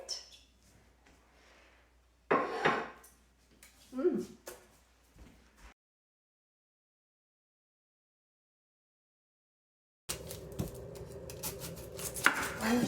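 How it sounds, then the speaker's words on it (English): A knife chops an onion finely on a cutting board, with a few sharp choppy bursts in the first half and then clattering kitchen noise after a silent gap. "I'm just gonna cut an onion."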